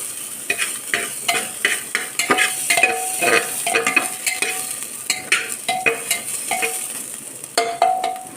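Ginger stir-fried in a pan, a continuous sizzle with rapid rhythmic scraping and tapping of a spatula against the pan, close and fairly loud, no voices.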